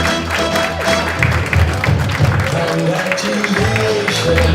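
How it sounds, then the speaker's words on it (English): Wedding guests applaud the newly married Mr and Mrs Carroll, a steady wash of clapping under loud music with a constant low hum throughout. "Come on, let's give a great big round of applause, ladies and gentlemen."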